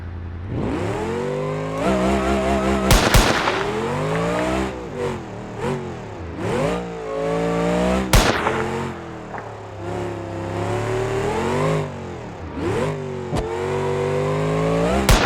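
A Boilde cart in BeamNG.Drive revs and accelerates hard over and over, its engine note climbing loud and close with sharp pitch rises and drops between shifts, running alone throughout.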